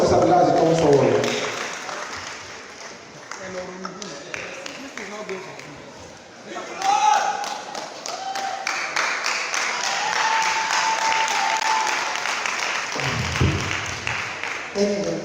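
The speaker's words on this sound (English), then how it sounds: "Please round of applause for Mr. Bilal as he comes forward." Audience applause at a law faculty event welcoming a speaker forward, steady mid-level clapping that continues for about fifteen seconds, with voices and movement mixed in around it.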